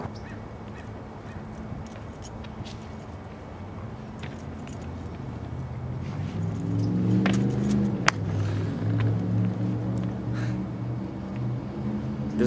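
Steady car interior rumble during an Uber ride, a low drone that swells slightly as the vehicle speeds up, with a faint jingle of keys and a sharp click partway through; no one talks.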